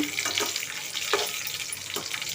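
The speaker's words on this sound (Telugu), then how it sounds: "వెల్లుల్లిపాయలు ఎండుమిరపకాయలు ఎలా వేపించుకుందాం" Garlic cloves and dried red chillies frying in hot oil, a steady bright sizzle with a few soft stirring scrapes, close and continuous with no talking.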